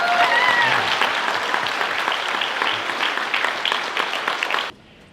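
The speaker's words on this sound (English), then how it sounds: "Guys, can we have a round of applause for my family?" An audience at an evening showcase of Class 12 school projects claps warmly for a student's family, steady dense applause that holds for several seconds and then cuts off abruptly.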